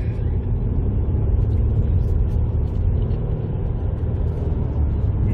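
A new car cruises along the Autobahn toward Giessen in November, its engine and road noise a steady, loud interior rumble with no breaks.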